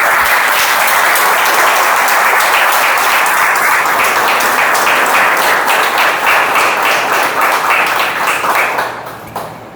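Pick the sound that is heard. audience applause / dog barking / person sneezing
audience applause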